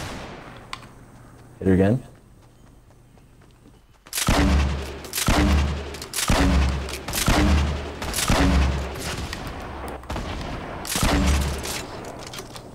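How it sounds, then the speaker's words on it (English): Grenade launcher firing in the Fortnite battle royale game, a run of about six heavy booming blasts at a steady rhythm, loud and close, with a short burst of speech just before. "I'm pushing with the grenade launcher"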